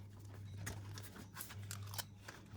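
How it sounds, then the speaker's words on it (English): Backing peels off the adhesive pad of a stick-on VESA monitor mount adapter in short crackling, tearing bursts close by, quiet overall with a low steady hum underneath. "Peel off the adhesive"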